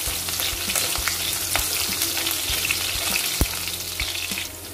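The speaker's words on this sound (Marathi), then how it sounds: "हे सगळं एकसाथ मी 4 ते 5 मिनिटं हलवणार आहे।" Garlic, green chillies and curry leaves fry in hot oil in a pan for a bitter gourd dish, a steady close sizzle broken by repeated spoon scrapes and taps as they are stirred, with no voices.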